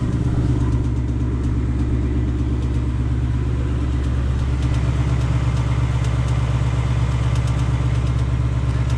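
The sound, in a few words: engine tick of a 2020 Ford Mustang GT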